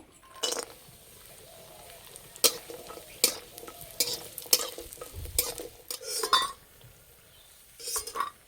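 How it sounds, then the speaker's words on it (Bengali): Urad dal bori frying in mustard oil in a kadai, a steady close sizzle punctuated by sharp clinks and stirring scrapes of a utensil against the pan. "এই শুক্তানি রান্নার জন্য প্রথমে আমি কলাই ডালে বড়ি ভেজে নেব।"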